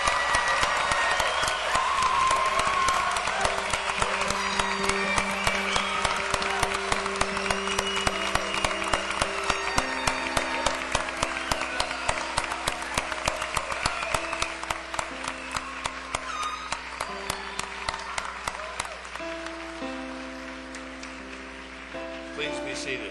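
A large commencement crowd applauds the Dakota State University graduating class of 2012. The dense, steady clapping runs the whole time, with sustained music playing underneath.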